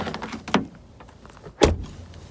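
A 2008 Cadillac CTS door is shut by hand, two distinct thuds about a second apart, the second louder and sharper, with light mechanical rustle between them and no talking.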